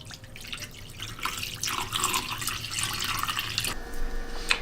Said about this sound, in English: So cover it with the cold water.